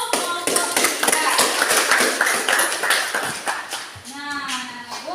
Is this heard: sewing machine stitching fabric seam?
no